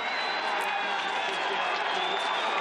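A large crowd at a cross-country skiing mixed team sprint final roars and cheers continuously, a dense wash of many voices with a commentator's voice running faintly underneath.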